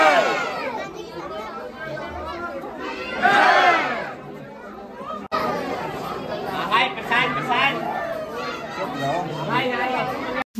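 A dense crowd at the Kalka Ji temple in New Delhi fills the air with loud, close chatter and overlapping voices, including higher shouts rising and falling throughout.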